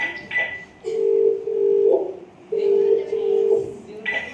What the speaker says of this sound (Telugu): ఏంటి నాన్న ఫోన్ లిఫ్ట్ చేయట్లేదు?